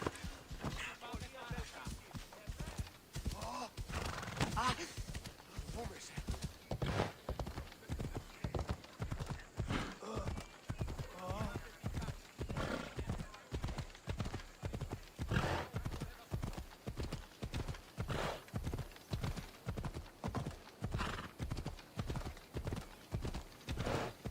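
Horse galloping in Assassin's Creed Odyssey, a steady rapid clip-clop of hooves throughout with an occasional whinny, fairly near and even in loudness.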